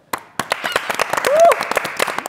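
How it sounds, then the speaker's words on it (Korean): Studio audience applause on a Korean variety talk show, scattered sharp claps over a brief burst of clapping, with speech and a rising vocal exclamation mixed in. "여러분 박수 주세요."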